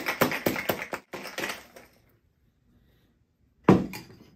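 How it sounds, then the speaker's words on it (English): Ice rattles in a cocktail shaker being shaken to mix a Crown Royal apple sour, a quick run of rhythmic clatters that fades out, then a short, sharp burst after a pause. "we're going to give this a good shake to mix it up and cool it down"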